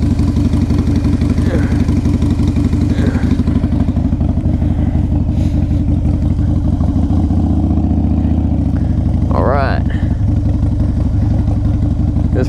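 A 2002 Harley-Davidson Low Rider's engine runs loud and close throughout, a steady deep idle with a brief rise in revs midway; a voice speaks faintly over it.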